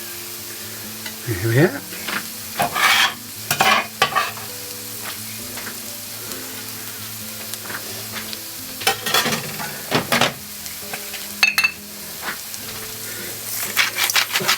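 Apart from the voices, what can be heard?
garlic frying and being stirred in a pan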